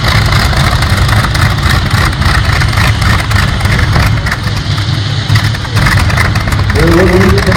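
A pulling tractor powered by an 18-cylinder, 54-litre star engine at a Swedish tractor pulling event roars loud and continuous, a dense deep rumble running throughout.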